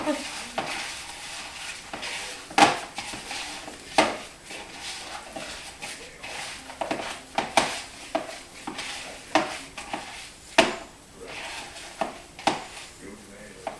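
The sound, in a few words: mixing meatball mixture with oregano and rosemary in a bowl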